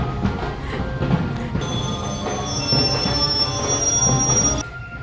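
Trains on rails passing close by in both directions, a loud steady rumble with high wheel squeal running through most of it before dropping off near the end.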